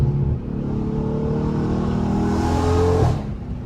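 Porsche 911 engine in GTA roleplay, revving steadily with a rising pitch before cutting off sharply near the end, loud and close, with no talk.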